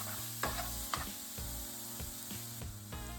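Garlic and ginger frying in a curry pan, a steady close sizzle broken by regular scraping stirs about every half second.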